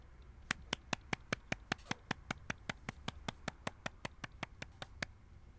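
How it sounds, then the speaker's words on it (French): A church congregation claps in unison after a sermon, around two dozen sharp, evenly spaced claps at a steady brisk beat, with no voices. "Applaudissons encore une fois chaleureusement Dieu et le Président qui nous ont prêché"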